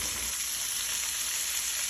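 Organic rainbow baby carrots and jicama frying in a pot, with a steady close hiss and sizzle running evenly throughout and faint scraping as they are stirred.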